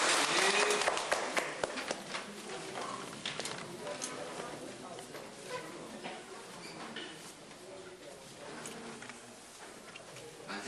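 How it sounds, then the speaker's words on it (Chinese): An audience at a religious lecture session claps loudly, the applause strongest at the start and then tapering to a scattered patter, with some voices mixed in. "再热烈掌声呢"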